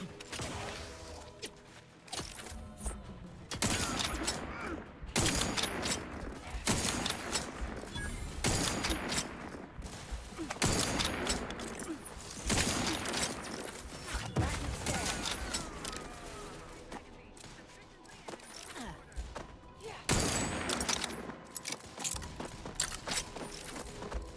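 Sustained gunfire rattles through a firefight in The Outer Worlds 2, with dense, overlapping bursts and volleys continuing for over twenty seconds at a steady, loud level, with no clear voices.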